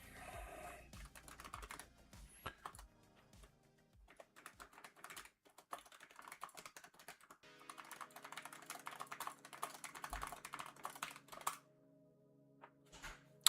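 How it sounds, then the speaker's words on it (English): Fingers type quickly on a computer keyboard in irregular bursts of close, crisp clicks and clacks, with brief pauses between runs and no voices. "Oh, I hate it when I make a typo when I'm typing something."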